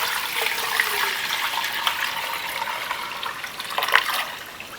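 Milk pours into a thick pot in a continuous splashing liquid stream, moderately loud and close, with a few small knocks.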